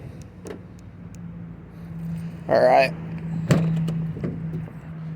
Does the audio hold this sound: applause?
no